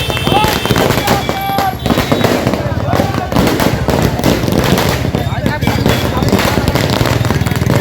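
Fireworks and firecrackers crackle and pop at a political victory celebration in Uttar Pradesh, a dense, loud, continuous barrage with voices of a crowd mixed in.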